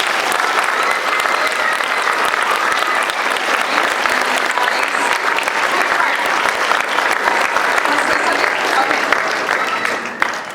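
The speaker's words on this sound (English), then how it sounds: "Give them a big round of applause." Loud, dense applause from a concert audience for homeschool choir members at a spring performance, sustained evenly for about ten seconds before tapering slightly at the end.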